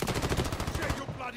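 Gunfire in the video game Call of Duty, a rapid close burst of automatic shots in an even rhythm that stops after about a second, followed by quieter game noise.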